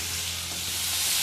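Eggs and onions frying in a pan give a loud, continuous close sizzle with light stirring, no talking.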